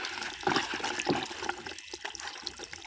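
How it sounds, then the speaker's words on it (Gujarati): A wooden stick stirs a liquid fertilizer mix for a cumin field's last irrigation, making soft, irregular sloshing and splashing water sounds close by. "તમે જોઈ શકો છો એક લાકડું રાખવાનું અને જેને કન્ટિન્યુ હલાવ્યા રાખવાનું"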